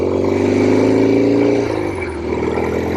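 A 1967 Norton P-11 desert racer motorcycle engine runs loud and close under way, a rough steady drone that holds, then eases and drops lower as the rider backs off.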